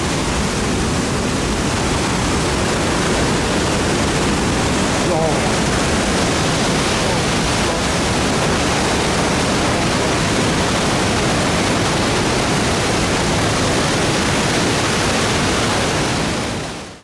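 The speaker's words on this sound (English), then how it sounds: "This is a normal river." River water rushes through The Chasm at Milford Sound, New Zealand. It makes a steady, loud, broadband roar that holds unchanged the whole time, close to the listener.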